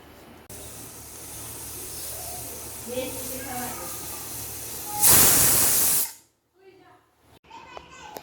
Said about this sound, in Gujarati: હવે આપણે એક જ સીટી બોલાવવાની